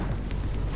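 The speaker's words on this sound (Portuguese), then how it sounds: "Olha, estão atirando agora." Continuous rumbling bursts of gunfire in the video game Oddworld: Soulstorm on PS5, dense and low-heavy, with a steady loud mix and no clear gaps between shots.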